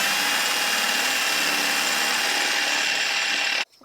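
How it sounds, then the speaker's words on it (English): A power drill bores out rivets on soft top straps in one steady, loud, high-pitched whine that runs for several seconds and then cuts off abruptly. "If not, you're going to have rivets, and they're going to need to be drilled out."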